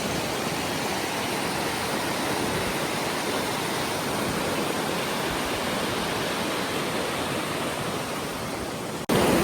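A river rushes steadily in front of a hotel in a mountain valley, a loud, dense, unbroken roar of water close by with no voices, cutting off briefly at the very end.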